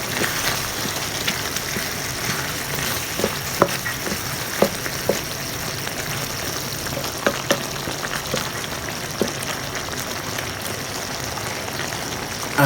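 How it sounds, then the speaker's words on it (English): Buttered chicken fries in coconut cream with a steady, dense sizzle and crackle, a few sharper pops and spatters breaking through the constant close hiss. "Let us introduce our coconut cream like this."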